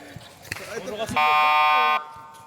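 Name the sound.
basketball game time buzzer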